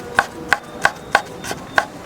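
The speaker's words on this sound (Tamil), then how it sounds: "நம்ம இப்போ இஞ்சியை சின்ன சின்னதாட்டு கட் பண்ணி எடுப்போம்." Ginger being chopped into small pieces with a knife on a cutting board, six crisp, evenly spaced chops at a steady rhythm, close and clear, with no talking.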